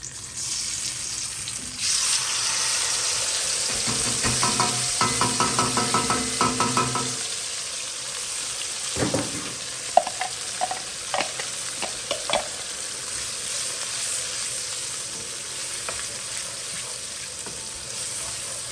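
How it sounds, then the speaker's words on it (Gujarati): Onion, tomato, ginger and green chili gravy hits a hot pan with a loud, steady sizzle, broken by bursts of stirring and scraping, then settles into a quieter fry with scattered clinks. "એટલા માટે હું ડાયરેક્ટ હવે ગ્રેવી જ એડ કરી દઈશ."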